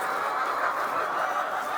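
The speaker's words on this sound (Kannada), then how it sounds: "ಆ ಕಡೆ ಇರುವ ಕೋಳಿಗಳು ಕೂಡ ನೀರು ಬೇಕು ಅಂತ ಕೇಳ್ತಾ ಇದ್ದ ತರ ಇದೆ" Chickens in a poultry shed cluck and call steadily together as water is given, a continuous murmuring chorus at moderate distance.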